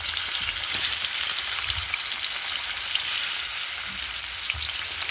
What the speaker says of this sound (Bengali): এবারে ইলিশ মাছগুলো একে একে আমি ভেজে নেব।